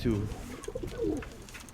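A pigeon's low, soft cooing, a couple of short rolling coos close by in a quiet space.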